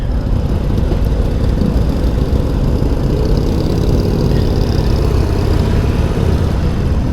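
A 2020 Harley-Davidson Iron Sportster 1200 motorcycle engine idles with a loud, continuous low rumble that stays steady throughout, heard up close.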